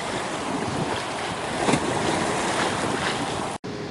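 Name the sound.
sea waves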